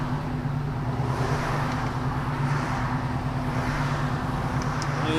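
A 1973 Plymouth Cuda with a numbers-matching 340 cubic-inch V8 idles in traffic with a steady, smooth low rumble, constant and unbroken, with faint road and wind noise around it and no talk.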